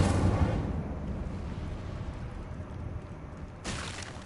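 A burst of fire from the Incendio spell in Hogwarts Legacy, a dense low rumbling whoosh that flares up at the start, rolls steadily and then flares once more near the end.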